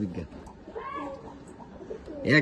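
Pigeons in a home loft giving soft, low coos in short bursts, fairly faint and close, with someone talking over them.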